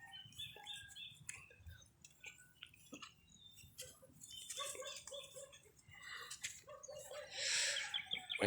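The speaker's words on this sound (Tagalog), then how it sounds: "May mga ibon, manok." Chickens cluck and birds chirp faintly in the distance over a steady outdoor background, with scattered rustling and no clear talk.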